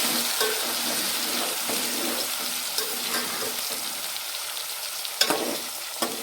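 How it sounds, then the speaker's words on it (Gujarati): A spice paste of green chillies for a jackfruit curry is stirred in a frying pan, a continuous loud sizzle with scraping spoon strokes and a couple of sharp clinks near the end. "એને આપણે આવી રીતે હલાવી"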